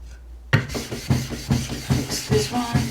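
A plane iron is sharpened freehand on a stone, giving rhythmic gritty rubbing strokes about every half second, close and steady, with no talk.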